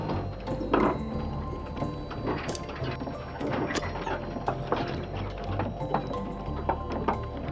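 Windmill gears and a ratchet turn in the video game The Inner World: The Last Wind Monk, a continuous clattering mechanical ticking with creaks and knocks over a low hum.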